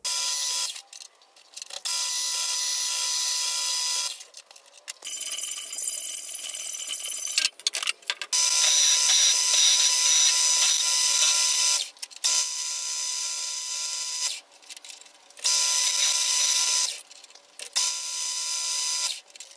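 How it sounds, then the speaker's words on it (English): Lengths of metal rod are cut in repeated bursts of loud, harsh, high-pitched cutting noise, each running a couple of seconds with brief gaps between, close and dominant throughout. "all I really need to do is cut up some lengths of rod"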